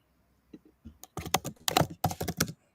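Fast, hard keystrokes clatter on a loud computer keyboard, building from a few taps into a dense run of clicks, close by and with no voices.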